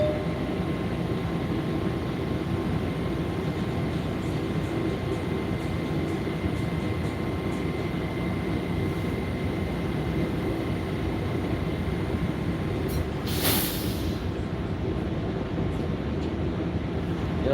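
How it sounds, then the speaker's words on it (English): A New York subway 7 local train bound for Flushing–Main Street runs with a steady, loud rumble and rail roar throughout, with a brief bright screech near the end. "This is a Flushing Main Street bound 7 local train."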